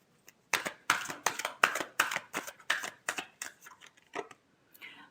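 Tarot cards being shuffled by hand in a series of crisp riffling bursts, about a dozen quick slaps and rustles in a row, close and fairly soft, tapering off at the end.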